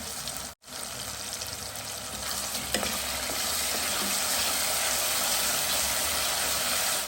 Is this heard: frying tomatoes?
yes